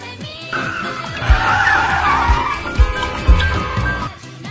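A car brakes suddenly and its tyres skid, a loud squealing screech lasting a couple of seconds over heavy thumping music beats.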